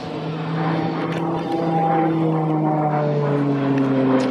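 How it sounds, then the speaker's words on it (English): An RNZAF Beechcraft T-6 Texan II turboprop flies display manoeuvres at the Omaka air show, making a loud, continuous propeller and engine drone whose pitch slides gradually as the aircraft moves. "So the manoeuvres that Squad Leader Stockley is doing is the half Pelican formation."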